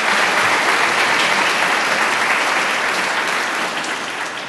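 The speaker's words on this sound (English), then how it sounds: "Would you give them a round of applause?" Audience applause at a college State of the College address: dense, steady clapping from a large crowd, loud and even, easing slightly toward the end.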